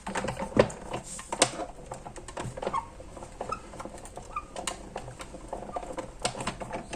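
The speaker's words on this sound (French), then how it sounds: "et comme ça passe à la machine et je peux faire 2 découpes à la fois." A die-cutting machine presses through paper with a dense run of quiet clicks, taps and rattling crunches, irregular and close, continuing for several seconds without any voice.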